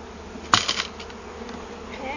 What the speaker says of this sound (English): we got to get some bees in and she'll be fine.